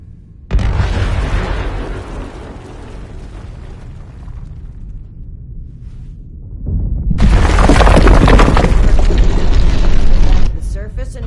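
Bomb blasts in Fallout 76: a loud booming explosion erupts and rumbles on, then a second, even bigger burst hits with crackling debris before cutting off, with voices mixed in.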